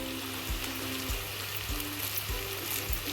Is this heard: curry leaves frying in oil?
yes